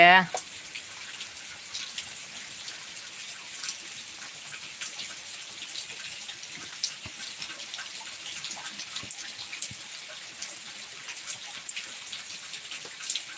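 Steady rain patters down continuously, a dense hiss of drops hitting a surface, fairly close and even throughout.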